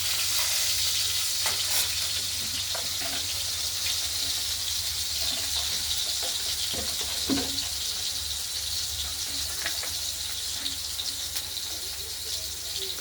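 Potatoes fry with tempering spices in a pan for a cabbage curry with peas and tomato, giving a continuous bright sizzling hiss with occasional soft stirring scrapes, close and steady.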